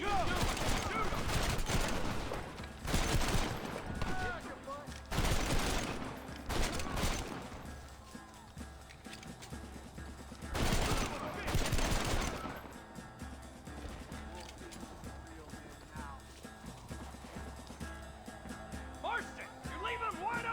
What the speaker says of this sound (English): Get ready to hold off their fire, Marston. Hold them off!